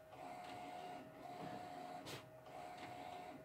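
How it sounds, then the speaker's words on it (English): A large-format inkjet printer hums and whirs as its multi-nozzle print head sweeps back and forth in repeated passes, with a faint steady whine, close and fairly quiet. "It's an inkjet printer"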